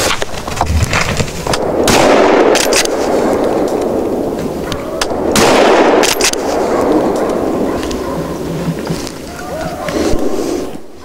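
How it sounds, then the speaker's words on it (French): Rifle shots ring out during a driven wild boar hunt in Hungary, with loud sharp reports and rumbling echoes outdoors, buried in constant wind or handling noise throughout. "tire une bête rousse avec 2 balles en pleine cage thoracique"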